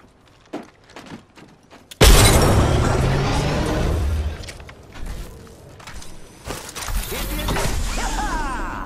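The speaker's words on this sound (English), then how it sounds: "Grenade out!" A grenade explodes in the Apex Legends video game with a sudden loud boom after a few light footsteps and clicks, followed by a long rumbling, crackling decay and scattered in-game mechanical sounds.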